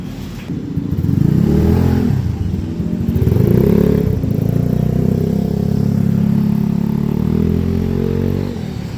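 A 140 cc motorcycle's prototype exhaust rumbles and revs up, holding a loud, throaty drone that swells and settles before easing off near the end.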